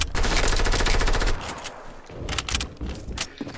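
Fast automatic gunfire in a Fortnite Battle Royale match, a dense loud burst of rapid shots that cuts off after about a second, followed by scattered single cracks and softer clatter.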